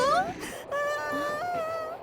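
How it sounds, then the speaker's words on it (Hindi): A cartoon girl cries in a high, wavering wail with a short break, then a long sustained sob that bends in pitch, loud and close with no other voices. "बच्ची रो रही है?"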